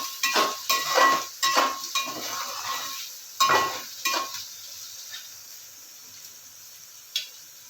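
Pieces of taro root fry in a pan with bursts of sizzling and scraping, likely from stirring, at first. The sound fades to a quieter sizzle after about four seconds and ends with one last short clatter.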